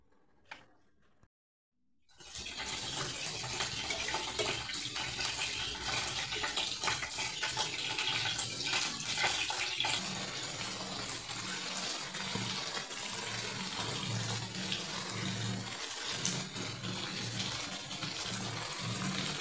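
After a brief quiet moment, water pours steadily into a cooking pot for beef tripe curry, making a continuous rushing splash that holds level throughout with small clinks mixed in.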